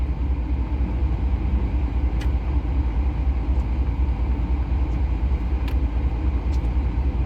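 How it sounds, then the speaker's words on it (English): A van passes on the road, heard from inside a truck cab as a steady engine rumble under constant low road noise, with no distinct swell or fade. "just wait for that van to come past"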